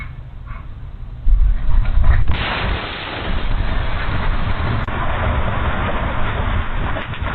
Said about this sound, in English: In an instant, a powerful explosion erupts across the street.